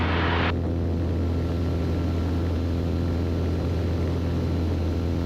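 Beechcraft Bonanza airplane climbing after takeoff near Concord, NC, heard from inside the cabin as a loud, steady droning engine and propeller roar that continues unbroken throughout.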